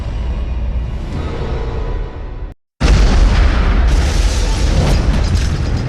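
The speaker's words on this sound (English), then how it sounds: "An explosion rips through an oil rig in the Gulf of Mexico." An explosion on an oil rig in the Gulf of Mexico, heard in a TV documentary intro: a loud, sustained rumbling blast that cuts to a brief silence, then bursts back even louder with a roaring, crackling wash.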